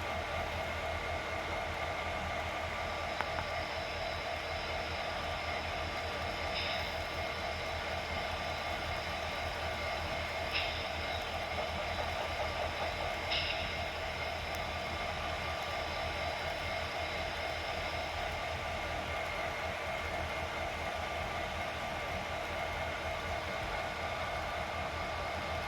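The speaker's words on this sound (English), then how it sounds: "Train 267 heads by Longhorn Yard, where we see a freight switching in the yard" A freight train rolls past a rail yard, Longhorn Yard, a steady rumble of cars under constant broadband noise, with a few brief squeals of metal on rail ringing out over the din.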